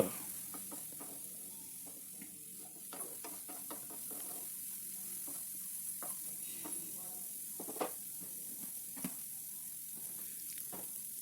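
Ginger garlic paste with a little turmeric sizzles steadily in hot oil, with frequent close scraping stirs and knocks of a spatula against the pan.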